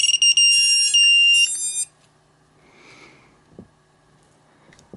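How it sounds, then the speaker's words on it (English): A Youbi XV-130's shrill electronic buzzer beeps rapidly and loudly for about two seconds, then stops, leaving faint background noise. "otherwise this buzzer's going to keep going off"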